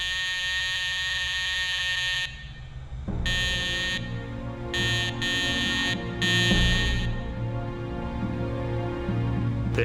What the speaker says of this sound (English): They have an alarm next to their bed, and they were using this alarm each 5 or 10 minutes.